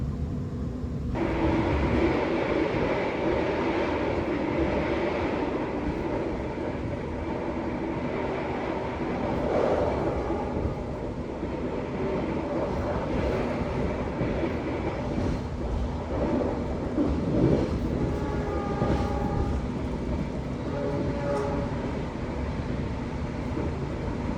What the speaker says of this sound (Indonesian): jadi nanti kita melintas langsung di stasiun Wates